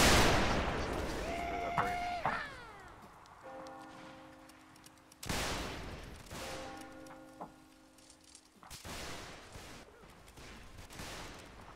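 Musket and artillery volleys in a North and South Civil War siege video game event, a few loud sharp blasts each trailing into long echoing decay, with whistling tones between and quiet chatter underneath.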